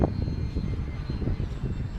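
A small FT Scout RC trainer plane flies overhead, its electric motor giving a steady, slightly wavering drone that swells and fades a little, fairly close and alone without talk.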